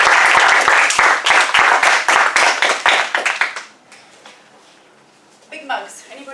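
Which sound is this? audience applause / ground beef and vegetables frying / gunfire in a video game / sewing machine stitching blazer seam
audience applause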